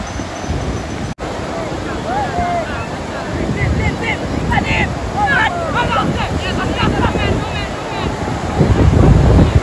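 Surf rolls steadily onto the beach at Puri, a continuous broadband wash of breaking waves mixed with gusty wind buffeting the microphone, while faint voices and chatter rise intermittently in the background.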